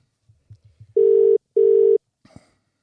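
A telephone ringback tone sounds during an outgoing call, two long steady buzzes in a row after faint dialing clicks, then a brief click as the line picks up.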